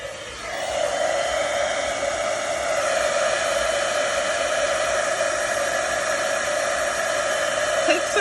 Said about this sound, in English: I'm gonna grab my heat tool.